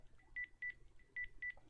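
Telephone dialing tones in the video game BROK the InvestiGator: four short, evenly spaced key beeps sound in pairs over a faint background hum, with no talking.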